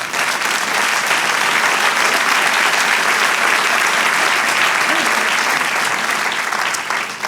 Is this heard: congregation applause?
yes